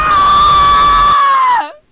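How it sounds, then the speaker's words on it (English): A person lets out one long, loud, sustained scream on waking, holding a steady high pitch before it cuts off abruptly into silence. "I wake up screaming."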